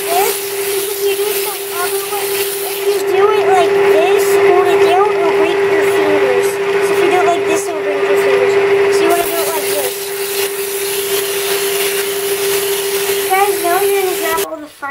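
A wood lathe runs steadily for pen turning, a loud continuous motor whine with a constant hum and scraping chatter of the tool against the spinning wood.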